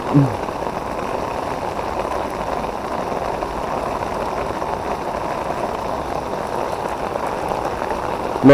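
Rain falls steadily during a fishing session, a dense, even patter that holds at constant loudness throughout with no talk.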